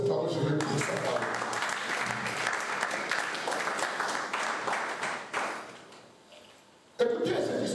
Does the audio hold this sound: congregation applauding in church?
yes